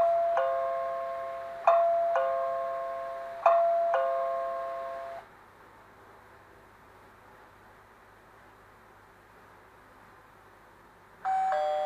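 A CareCam camera doorbell plays its alert chime three times in quick succession, a bright ding-dong tones ringing and fading, then a quiet hiss before the chime begins again at the end.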